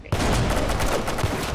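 Gunfire in a Roblox shooter modelled on CS:GO, a dense, loud burst of rapid shots that runs steadily through the moment.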